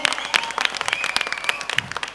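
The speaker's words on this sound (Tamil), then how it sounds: "உங்களுக்கு ஒரு முறை பாராட்டி கைத்தட்டி தெரிவிச்சிருவோம்." A concert audience claps steadily, many hands producing a dense, lively patter of applause that carries on without pause.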